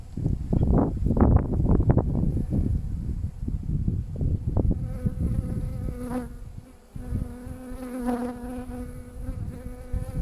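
Honey bees buzzing around an open hive, a dense, close swarm drone with wing buzzes swelling and fading as individual bees pass the microphone, sustained throughout.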